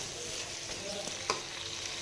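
Minced chicken with tomatoes roasts in a pan, a faint steady sizzle with one light scrape of a spoon and no talk.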